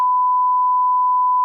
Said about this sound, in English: we're going to have to find it and bleep it